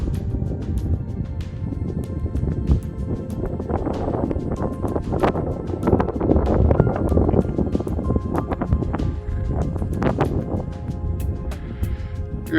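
Strong wind buffets the microphone on the summit of Beinn Fhionnlaidh in Glen Creran, Scotland, a steady loud roar with gusty bursts on a clear sunny day.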